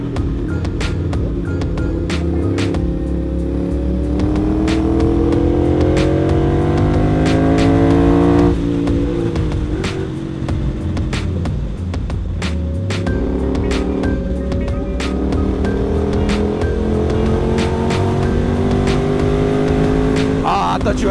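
A Ducati Monster and a Kawasaki Ninja Z1000 motorcycle accelerate hard through the gears in a chase on city streets, close and loud engine howls rising and falling with gear shifts and wind rush.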